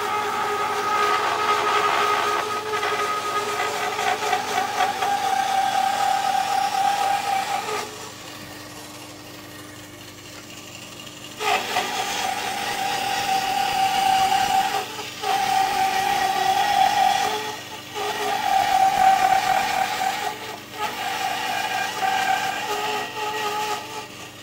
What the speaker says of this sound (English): The blade is tensioned on the bandsaw.